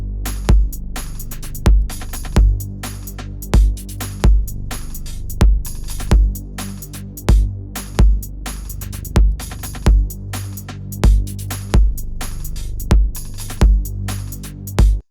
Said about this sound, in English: so that you have at least this rolling sound going on.